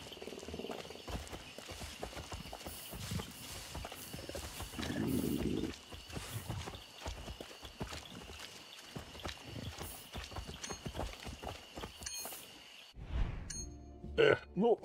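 Horses ridden along in Far Cry 6 give a steady clip-clop of hooves under a dense bed of ambient game noise, with a louder burst of sound near the end.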